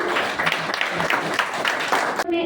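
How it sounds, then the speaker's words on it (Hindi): Crowd applause at a teacher-parent meeting at a school cluster centre, steady clapping of moderate loudness that cuts off abruptly near the end. "तो एक बार इसके लिए भी जोरदार तालियां।"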